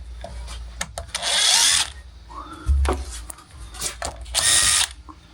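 A power drill drives Johnson screws into wood in repeated bursts: three whining runs of the motor separated by clicks, scrapes and a thump, close and loud, with no talk.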